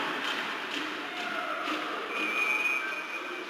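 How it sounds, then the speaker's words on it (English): A referee's whistle blows after a collision at a NAPHL AAA showcase ice hockey game between Minnesota and Arizona, a thin steady tone in the second half of the clip, fairly faint over the constant hiss of arena crowd noise. "We'll get a whistle on the collision with 3:22 to go"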